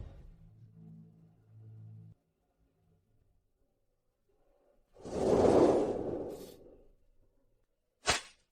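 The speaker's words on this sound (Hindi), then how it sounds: "पहला कोड़ा।" A whip lash swishes during a punishment in a period drama: one long, loud whooshing sweep after low rumbling, then a quiet pause and a single sharp crack at the end.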